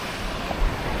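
Waves breaking on Agonda Beach in South Goa at sunset, a soft, steady wash of surf with a low rumble and a slight swell partway through, moderately quiet and alone, with some wind buffeting.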